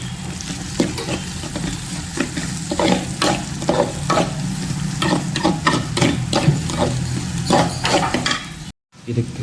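Spices tempering in hot oil with salt and turmeric sizzle steadily in a pan while a spoon scrapes and stirs in repeated strokes, close and loud, briefly cutting out near the end.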